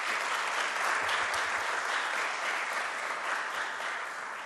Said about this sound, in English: so I'd like for you to give them another round of applause.